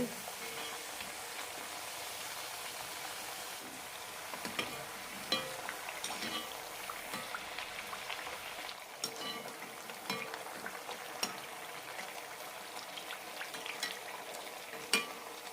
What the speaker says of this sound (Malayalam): ഹൈ ഫ്ലെയിമിട്ട് തന്നെയാണ് വറുത്തെടുക്കുന്നത്